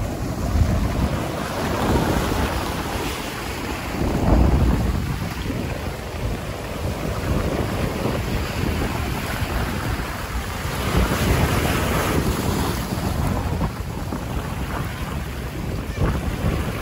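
Rough sea waves crash and surge at Enoshima in Japan while strong wind buffets the microphone, a loud, continuous roar with periodic swells and no talk.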